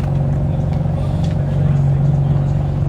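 A Porsche Boxster Spider at a European car meet rumbles nearby with a steady low engine drone, a few faint background noises around it.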